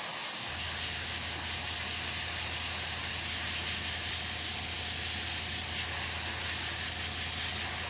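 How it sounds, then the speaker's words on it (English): A steady, even hiss of fine spray comes from an adjustable sprayer used to whiten a beard, running continuously and close for the whole stretch, with no talk. "I can adjust the spray by pulling back. This is more spray, this is less, this is none."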